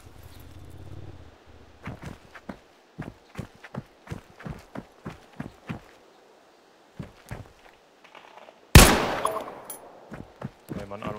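A series of sharp, evenly spaced gunshots in DayZ, followed by a louder blast, then more shots trailing off.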